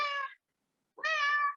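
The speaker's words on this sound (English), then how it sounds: "Oh, that was a cat." A cat meows twice in quick succession during an artist talk, two short clear calls separated by a brief silence, close and fairly loud with no talk over them.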